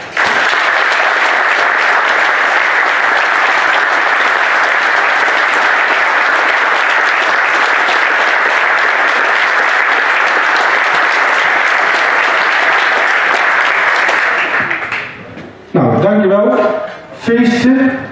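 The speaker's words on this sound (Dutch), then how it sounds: "Dus ik wil jullie ook vragen om voor Jan een applaus" Loud sustained applause from a crowd at an anniversary reception for a long-time club member, dense and even for about fourteen seconds before cutting off, followed by a speaking voice.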